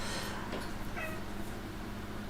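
A pet cat lets out a single brief, faint meow partway through, set against a steady background hiss in an indoor room.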